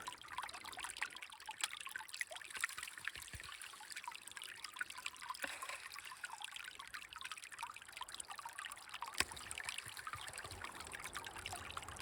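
Steady trickling and splashing of low-flow water running through a gold sluice box classified to half an inch, outdoors in an Oregon winter, continuous and fairly close with no talking.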